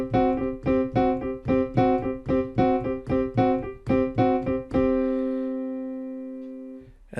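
A blues piano riff with the thumb anchored on C, played as a steady run of repeated chord stabs about twice a second, clear and close with no talking, ending on a sustained chord that rings out and fades.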